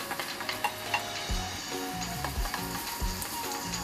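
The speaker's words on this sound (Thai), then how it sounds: "ทำการผัดคลุกเคล้าให้เข้ากันหรือว่าผัดจนกว่าแครอทกับหอมใหญ่เนี่ยจะเริ่มนิ่มตัวลงนะครับ" Carrot and onion stir-fried in oil for Thai chicken fried rice: a continuous sizzle punctuated by rhythmic spatula scrapes and taps against the pan, close and moderately loud, without talk.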